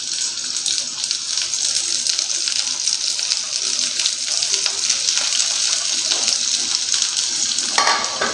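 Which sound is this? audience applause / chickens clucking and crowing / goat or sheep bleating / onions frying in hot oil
onions frying in hot oil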